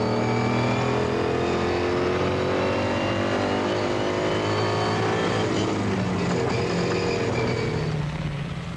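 Ford Ranger off-road race truck at the Carnival City 400 in 2002, heard from inside the cockpit: a steady, loud engine drone with shifting revs and rattling chassis noise throughout, no talk.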